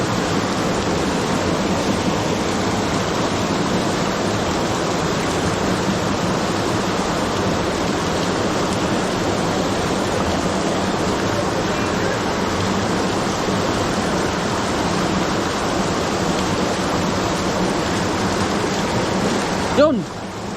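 Strong water gushing from a cut drinking-water pipe, a loud, steady rushing roar that holds without a break for about twenty seconds and ends with a brief bump.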